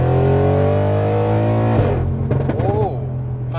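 A tuned Audi RS6 with bigger downpipes idles close by with a deep, steady rumble. A voice talks over the engine in the second half.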